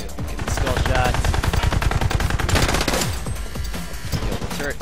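Rapid bursts of automatic gunfire and single shots from The Club shooter game, loud and dense throughout, with a voice speaking over the constant shooting.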